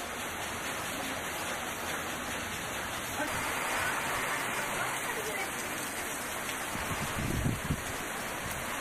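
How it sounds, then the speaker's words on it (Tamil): Heavy rain pours steadily in Hosur, Tamil Nadu, a dense even hiss of drops on the ground and surfaces with a few louder splashes near the end, with no voices. "சுமார் 1 மணி நேரம் கனமழை நீடித்ததால் சாலைகளில் தண்ணீர் தேங்கியது."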